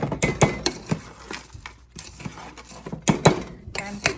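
Puffed rice churumuri snack being mixed in a bowl: irregular clinks and scrapes of a utensil against the bowl with crisp rustling of the rice, close and uneven, with no talking.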